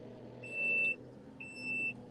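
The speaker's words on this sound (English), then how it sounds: "That beep is so annoying." Two sharp electronic reversing beeps, each about half a second long with a short gap between them, sound steadily over a low engine rumble from a big TYM tractor that is mowing.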